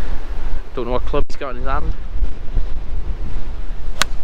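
Gusty wind buffets the microphone on Church Stretton golf course, a loud, low rumble running throughout while someone talks briefly and a sharp click sounds near the end.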